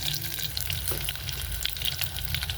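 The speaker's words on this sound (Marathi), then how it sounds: "आपण थोडेसे आता मेथी दाणे चार ते पाच टाकूया" Fenugreek seeds tossed into hot mustard-seed tempering oil for a tamarind-jaggery amti, making a close, continuous sizzle dotted with small crackling pops, with no voices.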